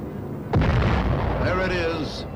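A radio-guided bomb bursts on its target with a sudden deep boom, followed by a long roaring rumble of the blast, loud and dominant, with a voice briefly audible over it.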